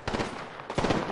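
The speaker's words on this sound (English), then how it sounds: "The other team there. Is shooting at her." Bursts of video game gunfire in Apex Legends, two dense automatic-fire volleys a moment apart, fairly loud and close.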